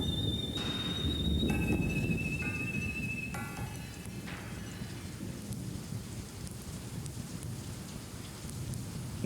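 Steady rain falls over a dry landscape where pools are refilling, a dense, even hiss with a low thunder-like rumble beneath, and a couple of thin bird whistles early on, heard at moderate distance with no voices.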